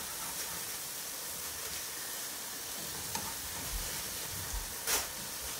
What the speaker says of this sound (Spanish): aquí vamos a poner a asar nuestro queso también